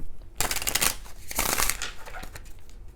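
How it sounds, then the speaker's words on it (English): A deck of tarot cards is shuffled by hand in close, crisp bursts of riffling and flicking, two main rustling runs followed by lighter card taps. "shuffling some of the cards"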